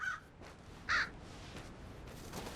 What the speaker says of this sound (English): Oh, there's a crow.